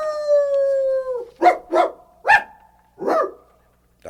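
Old Towser, a dog, gives one long drawn-out howl followed by several short barks and yips, loud and close with no other sounds.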